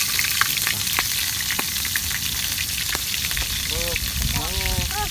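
Freshwater mussels (kijing) frying in hot oil, a loud, steady, close crackling sizzle with scattered pops throughout, and a brief voice rising near the end.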